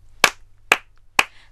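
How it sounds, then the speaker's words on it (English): Three sharp, evenly spaced hand claps ring out alone, close and crisp, with a steady low hum underneath and no talking, as in a children's music lesson on rhythm clapping. "I can clap my hands"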